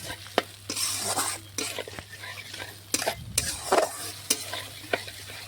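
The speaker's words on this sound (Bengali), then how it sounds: "এখন কিছুক্ষণ সময় নিয়ে মশলাটা ভালোভাবে কষিয়ে নিতে হবে" A spice paste for a chicken dish sautés in a pan, sizzling steadily while a utensil scrapes and knocks against the metal in irregular strokes, close and clear with no voices.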